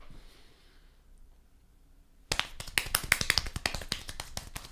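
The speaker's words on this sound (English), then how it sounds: "The fast clap." Fast hand clapping bursts in suddenly after a quiet stretch, a rapid run of sharp, close, loud claps with a busy, uneven rhythm.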